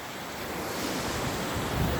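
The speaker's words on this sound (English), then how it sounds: "Washes it away, all the waves." Sea waves washing onto a beach at Flamborough below eroded cliffs, a steady close wash of surf mixed with wind buffeting the microphone, no voices.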